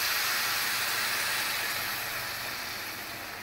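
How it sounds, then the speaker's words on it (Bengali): Hot water is poured into a pot of rice already fried in oil and salt for chicken biryani, giving a loud, steady, close sizzling hiss that fades slightly toward the end. "এখন গরম পানি দিতেছি"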